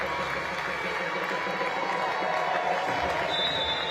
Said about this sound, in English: That is why there's a huge cheer for Gwen Manfu